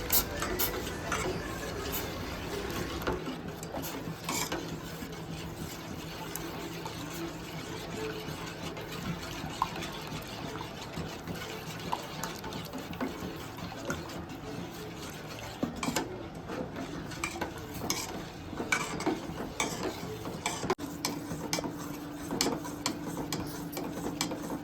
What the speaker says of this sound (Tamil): அந்த ரவையை அதில் ஊற்றி நல்லா கொஞ்சம் கொஞ்சமாக கட்டியாகிட போது கொஞ்சம் கொஞ்சமாக கிளறி விட்டுக்கோங்க